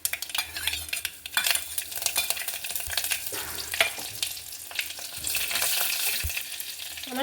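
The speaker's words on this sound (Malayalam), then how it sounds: "ഇനി അതിലേക്ക് കറിവേപ്പില ഇട്ട് കൊടുക്കുക." Curry leaves drop into hot oil where mustard seeds are already popping for a mackerel curry, giving a steady close sizzle with sharp crackles and a spoon scraping and stirring the pan.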